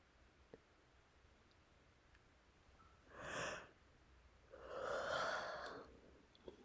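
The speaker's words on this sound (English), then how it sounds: "I had a big yawn." A person gives a big yawn in a quiet room, two faint drawn-out breathy exhalations, the second longer, with near silence around them.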